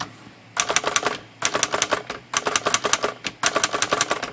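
A Hermes Rocket portable typewriter, its shift mechanism just adjusted, types in four loud, close bursts of rapid key strikes with short pauses between them and no talking.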